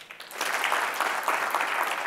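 An audience claps together in a sustained, fairly steady burst of applause that swells after a brief start and holds at moderate loudness, with no talking over it.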